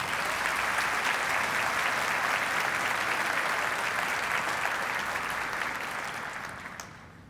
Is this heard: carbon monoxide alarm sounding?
no